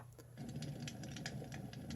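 Rain setting on an AIRSEE portable white noise machine: a steady, close broadband hiss with soft pattering streaks running unbroken throughout, no voices.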